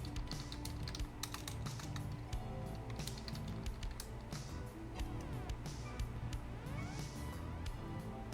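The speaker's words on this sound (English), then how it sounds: "I'm just typing in the chat now." Rapid typing on a computer keyboard during a livestream chat, with dense bursts of close, crisp key clicks over a steady low background hum and no talk.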